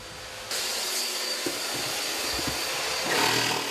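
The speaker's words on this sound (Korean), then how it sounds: "청소기 좀 줘." A vacuum cleaner switches on with a loud whooshing hiss and runs steadily nearby, extracting dust during a kitchen sink cabinet remodel, with a few knocks and a swell in the roar near the end.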